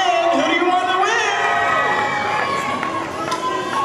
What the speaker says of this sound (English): Let's hear some cheering as well.